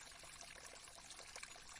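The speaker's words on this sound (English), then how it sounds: "splash, the stream sings a song. Splash, splash," Stream water trickles and splashes in a soft, continuous flow, faint and steady with small bubbling bursts and no voices.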